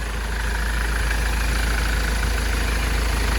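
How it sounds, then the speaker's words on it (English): A Ford Transit Jumbo minibus diesel engine idles steadily at close range, a constant low rumble with a rattly mid-range hum and no change in pace throughout. "And the engine sounds really, really sweet."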